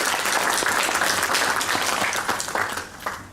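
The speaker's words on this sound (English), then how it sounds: "Round of applause for her once more." An audience at a Sikh community event in Singapore gives a dense round of applause that holds steady and then tapers off toward the end.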